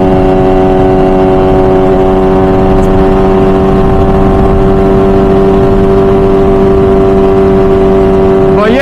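A 998cc MV Agusta Brutale 1000 RR naked superbike engine holds a loud, steady high-revving drone with strong harmonic tone, sustained without pause and close by.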